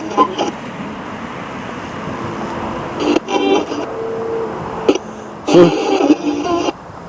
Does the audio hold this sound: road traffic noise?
yes